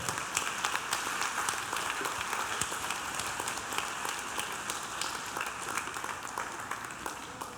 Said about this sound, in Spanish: Vamos, déle ese aplauso al Señor